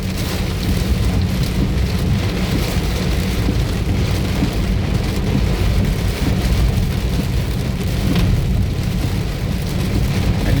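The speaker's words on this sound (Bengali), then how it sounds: "বৃষ্টি হচ্ছে, দারুণ" Loud, unbroken rain pouring down on the road between Cumilla and Dhaka, a dense steady hiss with a low rumble underneath, heard from close by without any talking.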